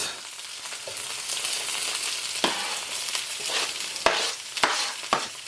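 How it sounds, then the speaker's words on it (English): Mixed vegetables tossed into a hot wok with extra oil for a Chinese stir-fry, giving a loud, close, steady sizzle broken by sharp clacks and scrapes of stirring, with no talk. "I'm going to add a little bit more oil to what was left behind. And now I'm just going to throw in all the veggies."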